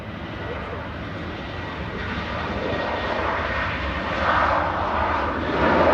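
Ryanair jet at Manchester Airport, heading for Dublin, a loud sustained engine roar building slightly toward the end, with voices faintly mixed in.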